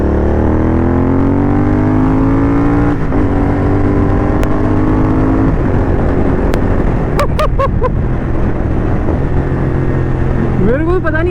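Offtrails Moto S1 Pro exhaust on a GT650 motorcycle, loud and close, with a steady engine drone, rising revs and several sharp pops and crackles toward the end.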